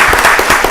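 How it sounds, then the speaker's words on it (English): Brief burst of audience applause for a department director at a county board of commissioners meeting, a loud steady patter of many hands close to the mic. "Can y'all give the director another round of applause?"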